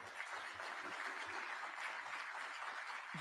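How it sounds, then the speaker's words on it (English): Steady crowd applause for Kevin Warren at a podium event before Chicago mayor Brandon Johnson speaks; the clapping is continuous, even and somewhat distant, with no talk over it. "clapping for Kevin Warren"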